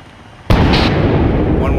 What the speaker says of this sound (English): Rocket.